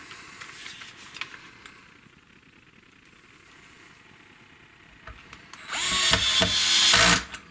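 Power drill driving a screw into a 2004 Korean Fender Telecaster with a birdseye maple neck, faint at first, then a loud whirring burst near the end as the clutch slips and ratchets.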